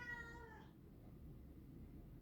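A small cat gives one short meow, rising and harmonic, lasting about half a second, then only a low steady background hum remains.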